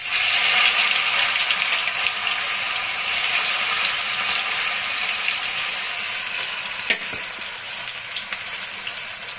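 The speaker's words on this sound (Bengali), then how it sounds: "এখন আমি মুইঠাগুলো ভাজবো।" Chital fish muitha dumplings frying in very hot, smoking mustard oil in a kadai, a loud steady sizzle that fades slightly over time, with one brief knock near the end and no talking.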